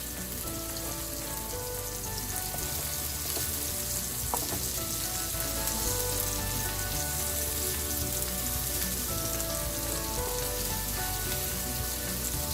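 Salmon pieces pan-fry in hot oil for a crispy chili fry, a loud, constant close-up sizzle and crackle that runs steadily with no talking.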